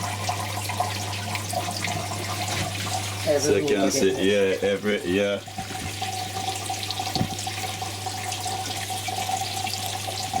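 Water runs steadily through a backyard hydroponic system, a continuous trickling and splashing over a low hum, with people talking over it throughout.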